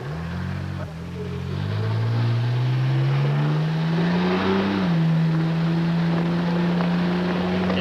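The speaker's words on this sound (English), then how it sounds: "he will drive the Buick Riviera pace car to start the 67th 500" A Buick Riviera pace car at the 1983 Indianapolis 500 revs its engine, a loud steady drone whose pitch climbs and settles, with voices talking over it.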